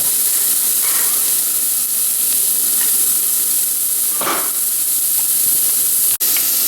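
Onions, garlic and carrots browning in a soup pot give off a loud, steady hiss and sizzle, with a brief stirring scrape partway through and a sharp knock near the end.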